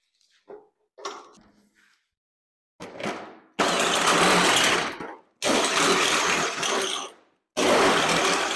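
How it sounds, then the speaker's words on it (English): A drill bores holes in a snowcat's steel hull in preparation for plug welding: a few short starts, then three sustained whining bursts of several seconds each, loud and close, separated by brief silences. "drill a bunch of holes"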